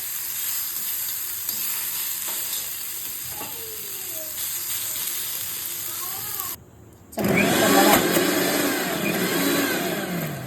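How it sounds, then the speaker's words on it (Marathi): Ingredients are dry-roasted in a pan as a steady close sizzle with stirring scrapes, briefly dropping out before returning louder and harsher for the final few seconds. "थोडंसंच भाजून घ्यायचं."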